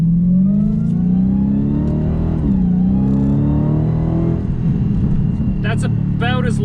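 A turbocharged LS-swapped Mustang revs at partial throttle as heard from inside the cabin, a loud droning engine tone that rises, dips and swells again, with a person talking over it near the end.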